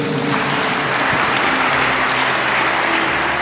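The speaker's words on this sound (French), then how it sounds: "Acclamons Docteur Jésus." A church congregation applauds during a sermon, a dense and loud wash of clapping that fills the whole stretch without any pause.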